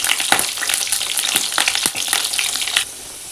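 Potato pieces fry in hot oil with a close, loud sizzle, broken by scraping stirs and clattering pushes of a spatula, then the sound eases to a softer crackle near the end.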